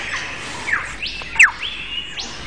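A male bird sings a mimicking courtship song: a few sweeping whistles and sharp chirps, clear and fairly close against a quiet background, with no talking.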